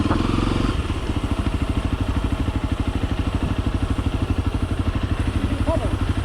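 A motorcycle engine idles close by with a steady, rapid low pulsing throughout, a louder burst at the start, and a brief faint higher sound near the end.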